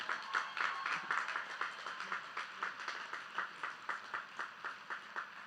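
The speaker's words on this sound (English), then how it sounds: "please give the 2021 valedictorians one more round of applause" A round of applause at a 2021 high school graduation ceremony for the valedictorians, steady clapping from a large crowd that carries on evenly for several seconds.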